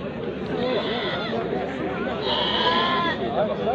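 Sheep bleat repeatedly at a busy weekly livestock market in Morocco, some calls close and loud, others farther off, over steady crowd chatter and nearby talk.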